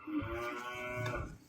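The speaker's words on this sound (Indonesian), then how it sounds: "Sapi." A cow moos once in a single long, low, droning call, heard close and clear with no voices over it.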